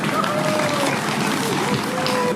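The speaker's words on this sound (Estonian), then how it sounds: "Aplaus palun!" Audience applause at a town festival award ceremony in Narva-Jõesuu, a continuous wash of clapping from a crowd, fairly distant and steady, with a tonal whistle-like sound drifting over it.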